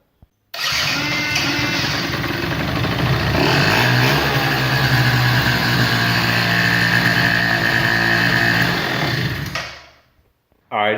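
A 50cc two-stroke Blue Dino mini bike engine runs steadily and loudly close by for about nine seconds, with a brief throttle rise partway through, then cuts out abruptly into silence.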